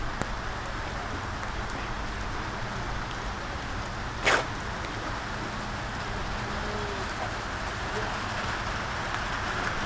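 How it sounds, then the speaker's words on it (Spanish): Steady rain patters continuously in a dense, even hiss outdoors, with one brief sharper noise briefly rising above it. "Y ahora yo escucho que la lluvia vuelve."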